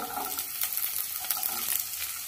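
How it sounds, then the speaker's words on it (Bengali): Cauliflower and cut beans fry over medium gas in a pan, a steady close sizzle with light stirring scrapes throughout and no talking. "গ্যাসটাকে মিডিয়াম করে রেখে ফুলকপিটা আগে হালকা করে ভেজে নেব। কেটে রাখা বিনসটা দিয়ে দেব"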